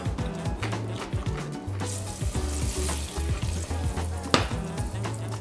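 Butter sizzles and crackles steadily in a pan on medium heat while preparing a cheddar cheese and ale soup, with low rhythmic thumps beneath and a brighter burst of spitting near the end.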